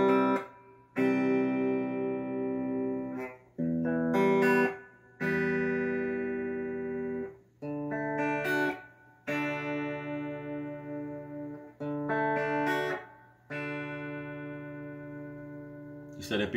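An acoustic guitar slowly plays the verse chords of a song. About eight separate strummed chords each ring out briefly, with short silent gaps between them, played alone at moderate volume.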